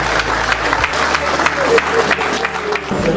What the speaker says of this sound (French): on peut se mettre en acclamant très fort le Seigneur de gloire